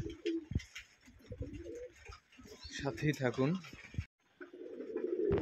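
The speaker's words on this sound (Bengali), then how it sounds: "এই কালারটা আমার খুব পছন্দের একটা কবুতর, রেসার কবুতর" Racing pigeons in a loft at morning feeding time give repeated soft coos and warbling calls, close by, interleaved with someone talking, ending in a brief silence and a rising rustle.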